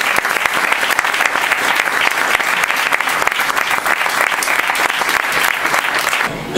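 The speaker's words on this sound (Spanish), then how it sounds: "Así que pido que le demos un aplauso a María Galindo" A crowd at a political party's candidate presentation event applauds loudly and continuously, a thick wash of clapping with no break, fading only at the very end.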